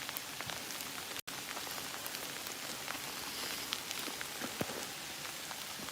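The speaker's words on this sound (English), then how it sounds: "Graupel is basically the hail embryo, or basically what would form a hail if it got any larger." Lake-effect graupel, small soft hail pellets, patters steadily and densely on surfaces outdoors, a continuous fine crackling hiss with a few sharper ticks.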